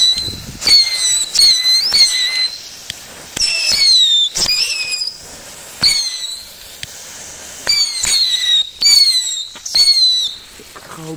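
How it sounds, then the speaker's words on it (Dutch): Baby rocket fireworks with whistles being set off one after another, each giving a sharp pop followed by a shrill falling whistle, several overlapping in quick bursts, nearby and loud, no voices. "Een setje. Babypijltjes met fluit."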